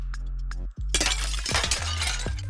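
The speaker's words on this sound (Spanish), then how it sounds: "Vamos a buscar también algunos efectos de sonido de cristales rotos." Broken glass shards shattering in a sound effect: one sharp crash after a brief silence, followed by a scatter of tinkling, clinking fragments settling, loud and close.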